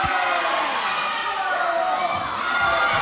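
A wrestling crowd at a live title match roars and shouts in a dense, continuous wall of voices, loud and close throughout with no single voice standing out.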